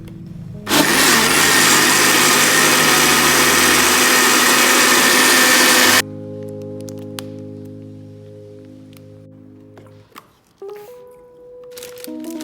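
A blender runs loud and steady for about five seconds, puréeing an aubergine and leek soup, then cuts off abruptly, leaving quieter kitchen hum and a few clicks.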